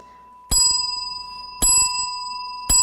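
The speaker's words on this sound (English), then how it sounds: "Every time the bell rings." Bright metallic bell struck three times at roughly even intervals, each ring loud and close with a long shimmering decay that overlaps the next, with no talking.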